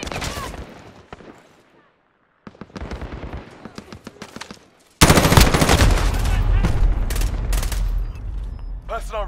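Video game gunfire: bursts of rapid automatic shots with scattered single cracks, then a dense, loud barrage of continuous firing and explosions, with voice chatter mixed in.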